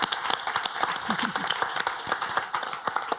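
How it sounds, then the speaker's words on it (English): Audience at an educators' session clapping for the introduced participants, a moderate patter of hand claps with individual sharp claps standing out, steady throughout. "Give them a round of applause before we start"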